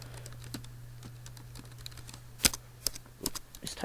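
Typing on a computer keyboard while playing Minecraft, a run of close key clicks, sparse at first and then louder and more clustered near the end, over a low steady hum, with no talking.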